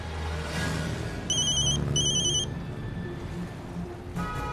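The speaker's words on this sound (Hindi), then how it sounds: "सतीश क्यों फोन कर रहा है मुझे" A mobile phone rings with two short bursts of a bright electronic ringtone, clear and fairly close, over quiet background sound with no talking.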